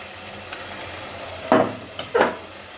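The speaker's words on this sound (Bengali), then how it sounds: "এখানে আমি একটু এটা ভেজেই নিই, একটু কষিয়ে নেব।" Mushrooms frying in a pan with coriander-cumin powder, a soft sizzle under a few short scraping stirs, two louder strokes near the end, no talking.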